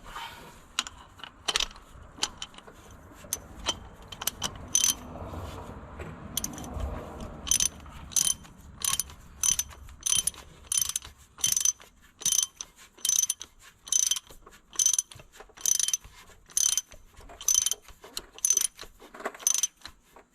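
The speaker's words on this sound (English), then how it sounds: "And tighten it up." A hand ratchet tightens the oil pressure sensor on a Dodge Ram 1500 with a 5.7 Hemi V8, clicking in a fast whirr at first, then settling into steady, evenly spaced close-up strokes with sharp metallic clicks.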